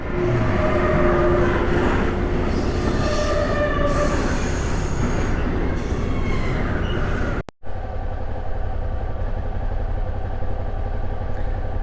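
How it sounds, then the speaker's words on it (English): A train rumbles past loudly with rattling wheels and faint squeals, then the sound cuts abruptly to a steadier, quieter rolling drone. "Train coming."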